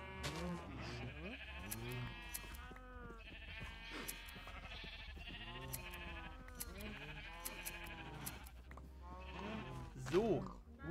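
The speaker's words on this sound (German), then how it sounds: "Kommt her, ihr Schafe, ich muss euch scheren." Minecraft sheep bleat over and over in a farm stall, a dense chorus of wavering game bleats close up, mixed with brief in-game sounds, while a player talks throughout.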